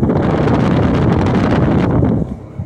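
Air rushing from the exhaust of a running 1925 Spencer vacuum cleaner, a loud, close, steady blowing hiss that drops off sharply near the end.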